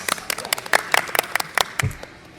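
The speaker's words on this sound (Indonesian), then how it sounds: "Applause buat ITNS." A few people clap in a podcast studio, a sparse, irregular burst of separate close hand claps that thins out and stops after about two seconds.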